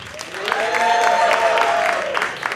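Applause fills a comedy club during a stand-up contest, steady clapping with cheering voices riding on top, loud and sustained for a couple of seconds before tapering slightly.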